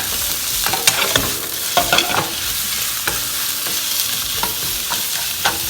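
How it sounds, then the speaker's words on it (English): A whole package of ground pork sizzles loudly in a hot pan, with continuous frying crackle and repeated scraping strokes of a utensil stirring the meat. "go ahead and add our pork"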